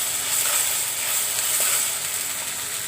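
Ginger and garlic frying in oil, a steady broadband sizzle that holds close and even throughout, with a faint scrape of stirring and no voices.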